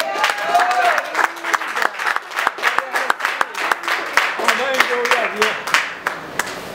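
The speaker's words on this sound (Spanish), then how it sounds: "Denle un aplauso al Señor porque Él vive" A church congregation claps for the Lord, rhythmic, separated hand claps with a voice speaking or singing over them throughout, fairly close and loud.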